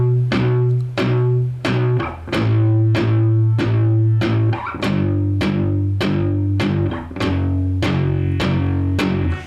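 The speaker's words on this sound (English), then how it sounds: "apply that palm muting technique now to the little power chord" Chunky, palm-muted electric guitar power chords, each chord struck four times in a steady chugging rhythm before shifting to the next, loud and close with no talking.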